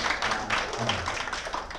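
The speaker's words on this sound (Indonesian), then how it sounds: "Kita berikan tepuk tangan untuk" A small group claps in a classroom after a teaching session, a brief burst of moderately loud, uneven hand claps lasting a couple of seconds with a faint voice underneath.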